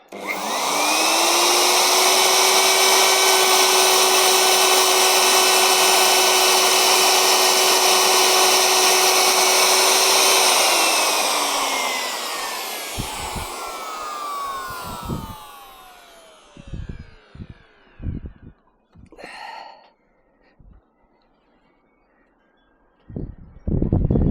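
A wood router spun up to a higher speed setting howls loudly and steadily with a rising whine, then winds down around twelve seconds, followed by scattered knocks and handling noises.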